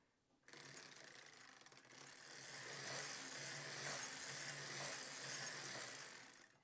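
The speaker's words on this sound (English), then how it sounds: "So let's crank a few rows." A knitting machine carriage is cranked across a few rows while knitting a heel and toe, giving a continuous mechanical whirring and rattling that builds after a short silence and runs steadily to the end.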